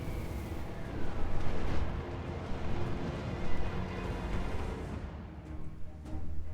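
Mortar artillery in a Total War: Warhammer 2 battle, deep booming launches and explosions rolling under a dense battlefield din, with several heavy thumps spread across the passage.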